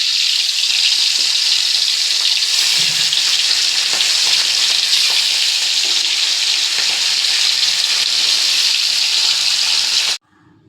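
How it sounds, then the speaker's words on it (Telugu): Fish frying in mustard oil makes a loud, steady, close sizzle that crackles without a break for about ten seconds before cutting off sharply, with no voices. "చూసారా, ఫిష్ అంతా ఇలా ఫ్రై చేసుకున్నాం."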